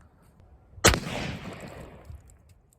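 A single sharp 5.56 rifle shot fired at a bathtub, loud and close, with a long rumbling tail of echo fading over about two seconds, no voices.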